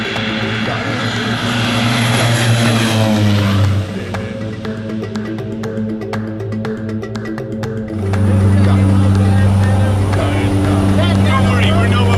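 Propeller airplane engine drones loudly and steadily in flight before a skydive, a continuous harmonic hum with a dip in level midway before swelling again; voices talk over it.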